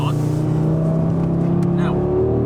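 A 2022 Audi RS3 (8Y) pulls hard at full throttle, its engine note loud and steadily climbing in pitch from inside the car while people talk over it.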